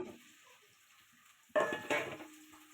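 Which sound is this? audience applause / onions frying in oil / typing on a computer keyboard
onions frying in oil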